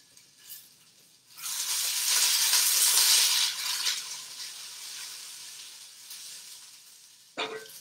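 Green beans and mushrooms sizzle loudly in a hot pan as they are stirred, a bright hissing surge that swells, then slowly eases, ending with a sharp clank of utensil against the pan.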